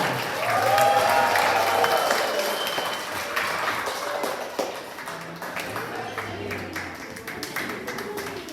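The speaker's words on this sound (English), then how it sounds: "Give them a round of applause." Sustained applause from a large crowd at a university college graduation ceremony, loud at first and gradually easing, with a voice speaking faintly underneath.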